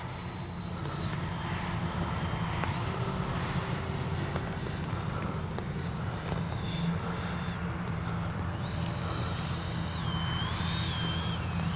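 An FMS 70mm F-18F V2 RC jet with gear and flaps down flies in to land, its steady ducted-fan whine holding constant and fairly distant over a continuous low rumble of wind and outdoor noise, with a thin high tone rising and falling.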